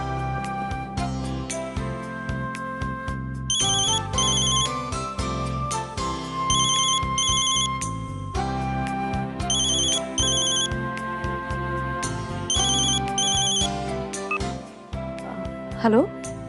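A mobile phone rings out while a call is placed, a repeating electronic ringtone with bright chiming bursts over a steady musical backing, fairly loud and continuous, with no voices over it.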